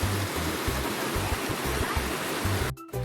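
River water flowing and rushing steadily, loud and close, a broad continuous wash with low rhythmic thumps underneath, cutting out briefly near the end.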